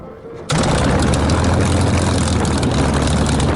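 After a brief quiet moment, a Spitfire's Rolls-Royce Merlin engine starts and bursts into a loud, close, continuous roar that runs steadily to the end.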